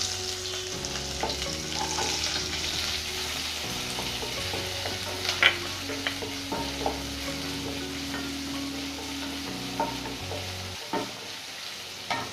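Chopped onion sizzles and crackles as it fries in a pan for a mushroom and egg potato curry, a steady close hiss with scattered pops and light stirring scrapes, no voices.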